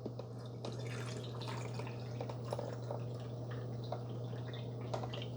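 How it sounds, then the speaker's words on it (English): Water trickles and drips steadily into the reservoir of a Farberware Dual Brew 12-cup coffee maker as it is filled to the 8-ounce mark before vinegar is added, a close, continuous splashing over a low steady hum. "it's a little easier to fill it up to the 8 ounces with water first"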